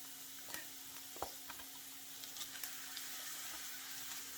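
Ground turkey frying in a pan, a steady soft sizzle with a few stirring scrapes and clicks near at hand, no talking.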